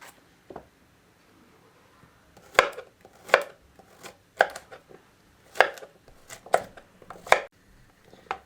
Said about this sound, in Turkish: kabaklarımı doğradıktan sonra